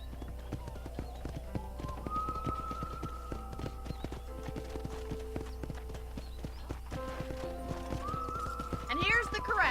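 Horse hooves clip-clop steadily while a horse whinnies near the end, set in the video game Red Dead Redemption at a ranch corral, with people talking over much of it.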